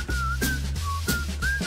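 A person whistles a short repeated tune, clear steady tones broken into a few phrases over a low continuous background hum.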